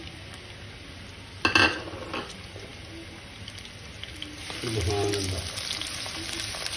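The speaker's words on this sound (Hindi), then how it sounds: "फ्लेम स्टार्ट करके इसमें घी डाल दिए। अब इस मौके के ऊपर इसमें प्याज ऐड कर देंगे।" Onions frying in ghee for a boneless karahi, a steady crackling sizzle with a sharp clatter of a utensil early on and a louder sizzling surge near the end; a voice briefly speaks.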